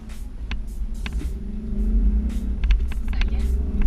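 Manual transmission car accelerating in first gear on a highway on-ramp, a low engine rumble that swells steadily, heard from inside the cabin with a voice over it.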